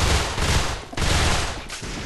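Pistol fire in the online shooter A.V.A., heard as quick bursts of close, loud gunshots in a rapid rattling sequence, broken by two short pauses.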